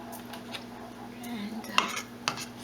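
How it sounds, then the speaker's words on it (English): Lentil and barley vegan soup is stirred in a pot, with soft scraping and a couple of sharp clinks of a utensil against the pot, quiet and close. "Alright, and stir this up."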